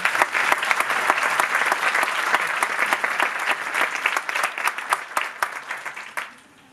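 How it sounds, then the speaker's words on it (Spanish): Audience applause at a legal seminar on notarial practice in Mexico City: brisk, crisp clapping from a room of attendees that runs strongly, then thins and fades out near the end. "También les pido por favor un aplauso."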